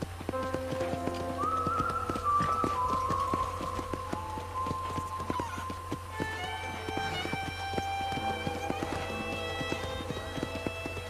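A horse's hooves in the video game Red Dead Redemption, a steady clip-clop of riding that runs throughout under tonal game music.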